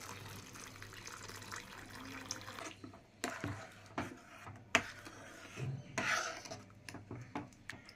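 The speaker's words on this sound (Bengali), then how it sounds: "গরম জল এতে আমি অ্যাড করলাম পরিমাণ মতো।" Hot water poured into a pot of rajma gravy with spices, a steady watery pour with some rubbing and pot clatter, fairly close, followed by scattered clinks and splashes.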